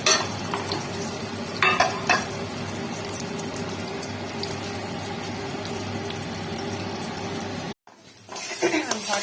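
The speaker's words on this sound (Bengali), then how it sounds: "এবার এখানে তেলের মধ্যে এটা দিয়ে আরেকবার কেটে নেবো।" Teasel gourd bharta paste is stirred and fried in oil, a steady sizzle with scraping spatula strokes that cut out briefly near the end, then resume.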